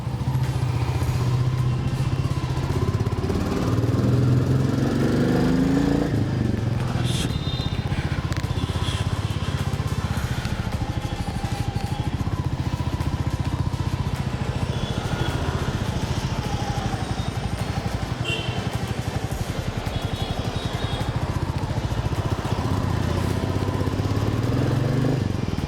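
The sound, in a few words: Royal Enfield Meteor motorcycle engine running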